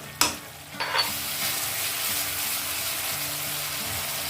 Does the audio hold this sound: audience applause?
no